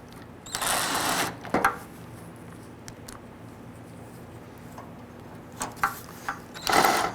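A power driver snugs bolts down on the header panel of a 1994–2004 Ford Mustang, with two short whirring bursts early on, quiet clicks and handling noises, then two more brief runs near the end.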